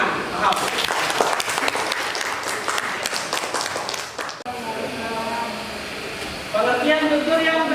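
Students in a classroom clap together for about four seconds, a dense burst of applause that cuts off abruptly, followed by quieter room sound and a voice speaking.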